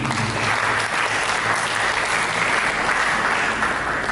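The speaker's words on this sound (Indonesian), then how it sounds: "Mari berikan tepuk tangan." Steady, dense applause from a large church congregation, sustained clapping at an even level throughout.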